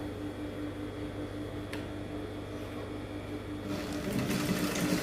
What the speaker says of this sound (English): So I'm going to take it to the sewing machine and follow the measurement I printed here on both sides